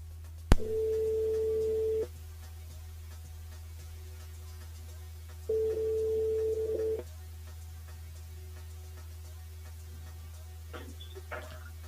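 Telephone line tone on a radio call-in show's switchboard line, two steady beeps each lasting about a second and a half with a pause between, set over a quiet hum.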